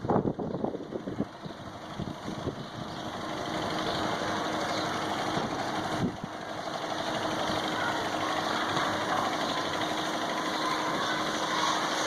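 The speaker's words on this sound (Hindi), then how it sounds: "डंपर देख रहे हैं, ये रेत लेकर आ रहा है, मट्टी वगैरह लेकर आ रहा है" Dump truck engine running at a bridge construction site in Karachi, a steady rumbling drone with a brief bump in loudness, heard at moderate distance without talk.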